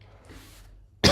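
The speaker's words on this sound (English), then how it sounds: "you'll probably hear me cough and sniff a lot" A single sharp cough from a sick man bursts out loud and close at the very end, after a near-silent stretch.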